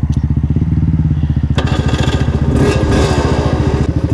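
An Aprilia RS125 two-stroke motorcycle runs loud and close, its buzzing engine pulsing steadily, then rising in pitch as the rider accelerates, with wind noise in the background.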